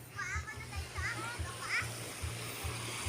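People bathing and splashing in the sea at a beach, with a continuous wash of water and surf under children's voices calling out in short bursts.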